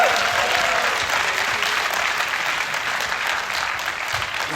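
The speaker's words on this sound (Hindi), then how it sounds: "इनके लिए एक बार जोरदार तालियां बजा दो।" Loud, sustained applause from an audience at a college dramatics club play, thanking the invited team members, a dense continuous clapping wash that holds steady throughout.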